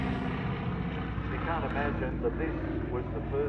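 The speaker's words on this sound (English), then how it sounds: "Here's Temora Aviation Museum's Lockheed Hudson, a military version of the Super Electra airliner." Lockheed Hudson, a twin-engine military variant of the Super Electra airliner, passes at an airshow in a steady, sustained engine drone, with crowd chatter and voices layered over it.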